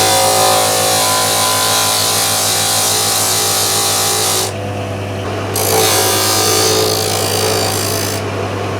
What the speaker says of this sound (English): Well, I finished sanding the USB